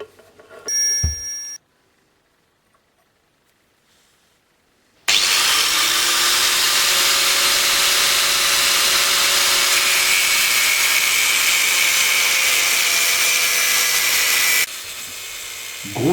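A power tool grinds a chamfer along an existing break line on a motorcycle fork crown before welding. After a brief whir and a short silence, a loud, steady, high grinding whine runs unbroken for about ten seconds, then drops away.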